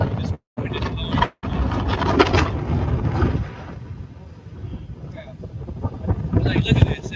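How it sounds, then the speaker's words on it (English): Strong storm wind in Florida roars and buffets the microphone in loud, rough gusts, with some talk mixed into the noise. "That guy's out there with this wind is blowing."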